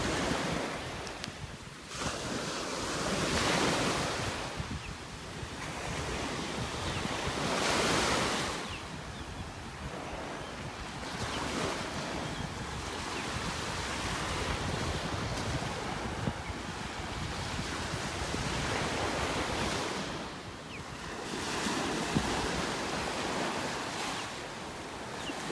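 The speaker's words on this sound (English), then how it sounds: "The waves breaking on the sandbar out there." Ocean waves break on a sandbar off a beach in North Naples, Florida, rolling in long, overlapping surges of broadband wash with steady wind noise across the microphone and no talking.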